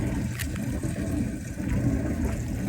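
An impeller washing machine fills with water, a steady close rushing and splashing of water pouring into the drum that holds an even level throughout, with no voices.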